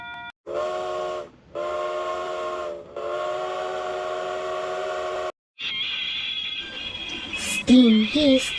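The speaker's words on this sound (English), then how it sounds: "Mountain Express number 7 blew her whistle loud and clear." A steam locomotive whistle blows three long, clear, tonal blasts separated by short gaps. A hissing rush of steam and a brief jumble of higher squeals follow.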